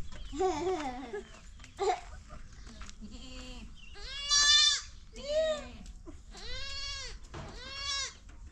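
Goats bleat repeatedly at close range, loud wavering cries spaced a second or so apart, with a few shorter calls between them.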